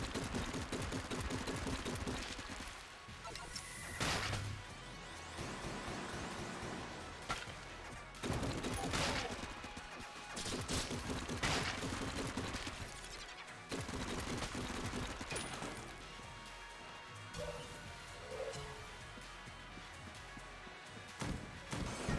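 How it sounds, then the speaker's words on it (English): Rapid bursts of gunfire from the cheese gun in the video game Enter the Gungeon, firing repeatedly in a tough room, with cracks and impacts scattered over a busy background of game sounds. "Thank God we have the cheese gun."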